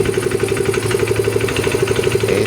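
A Yamaha Mio i 125 scooter engine that runs very noisily, idling with a steady, rapid mechanical knock and putter, loud and close throughout with no voices over it.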